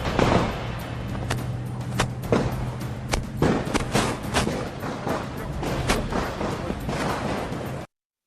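Gunfire rings out in the Russia-Ukraine war zone, with sharp, loud reports at irregular intervals over a continuous rumbling, noisy background, close and uninterrupted for about eight seconds before the sound cuts off abruptly.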